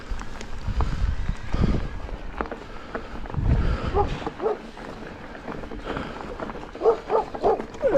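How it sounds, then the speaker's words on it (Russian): A dog barks outdoors in short yipping bursts near the end, mid-distance, among footsteps, heavy breathing and wind noise on a hilly Crimean hiking route near Yalta. "Эй, собака, не гавкай."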